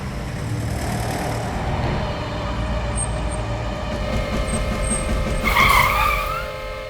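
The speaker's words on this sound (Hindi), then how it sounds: "ये तो प्रेम की गाड़ी लगती है" A car rumbles steadily on a forest road, its engine drone loud and continuous, with a brief higher whine and tyre noise swelling near the end; no talk.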